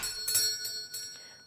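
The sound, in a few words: small bell above a barbershop door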